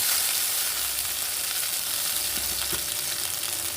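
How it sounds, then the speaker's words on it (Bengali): Tempering spices frying in hot oil just before mango goes in for wedding-style mango chutney, a loud continuous hissing sizzle heard up close, with a couple of small stirring knocks and no voices. "ফোড়নটা ভাজা হয়ে গেছে বন্ধুরা এই পর্যায়ে আমি দিয়ে দেব আমটা"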